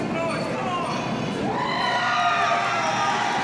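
Wrestling crowd in an arena cheering and shouting for a performer, a continuous mid-distance roar with whoops, while a commentator talks over it.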